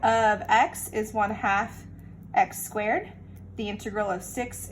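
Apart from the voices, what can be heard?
None of the usual background noises is heard.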